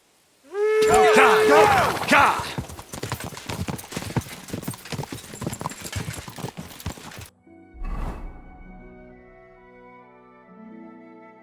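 Steel-shod horse hooves clip-clop steadily in Kingdom Come: Deliverance II, near and loud. A horse whinnies at the start, and saddle and straps clatter. A short thump and game music follow as the riding stops.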